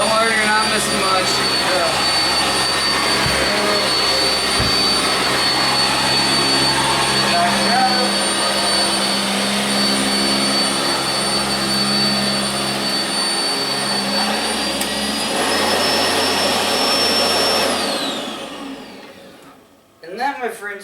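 A Sanitaire SC679j upright vacuum cleaner runs steadily in a basement, a loud continuous motor whine with a high tone that shifts slightly near the end before the machine shuts off and winds down.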